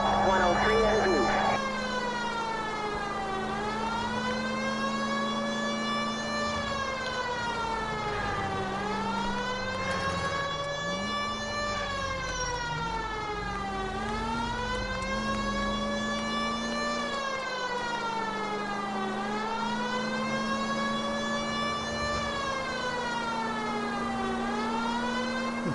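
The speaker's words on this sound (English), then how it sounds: "Turn the siren off a little bit." Police car siren in the 1940s Los Angeles crime game L.A. Noire, wailing loudly and continuously, sweeping up and down in long cycles over a steady engine drone throughout.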